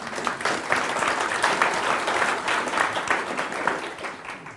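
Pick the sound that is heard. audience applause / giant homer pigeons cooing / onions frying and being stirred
audience applause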